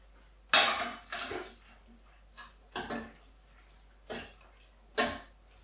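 A utensil scrapes and clinks in a pan of smoked salmon and asparagus pasta sauce, with six separate clattering knocks spaced about a second apart and quiet gaps between them.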